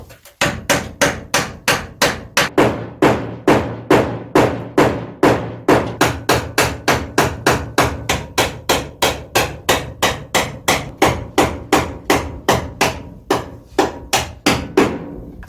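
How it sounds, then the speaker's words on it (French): A hammer strikes a knife wedged under a Renault 4L body to free it from the chassis, sharp metallic blows repeating at a steady, even rhythm, loud and close, with no voices. "je vais essayer de décoller la caisse avec un couteau comme ça et un marteau"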